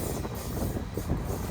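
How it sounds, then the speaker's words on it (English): A train rushes past close to cyclists riding a rail-side bike path in the Dolomites, a dense, continuous roar of wheels and wind without any voices. "a train comes passing us by"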